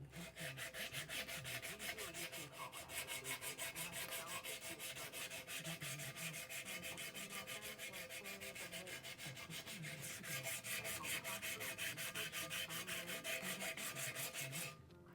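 Sand cloth scrubs steadily against the metal surfaces of an outboard motor's lower unit, a close, continuous rhythmic rasping that runs the whole time with no talk.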